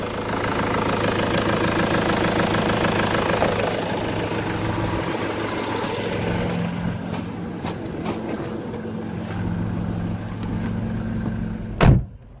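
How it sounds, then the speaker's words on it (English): A 2003 Ford Fiesta engine runs after starting, idling with a steady, close rumble and some knocking, then quieter clicks and a sharp thump like a door or bonnet near the end. "Engine is running."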